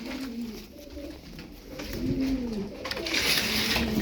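Ankara Kırı tumbler pigeons coo in a loft, a few soft rolling calls rising and falling over a steady murmur of background noise.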